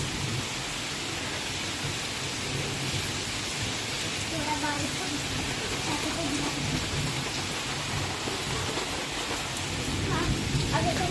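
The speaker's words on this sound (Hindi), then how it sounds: "वहाँ पे बारिश ज़ोर से शुरू हो गई" Heavy monsoon rain pounds down in a steady roar, with low thunder rumbling beneath the dense hiss of drops, continuous and close throughout.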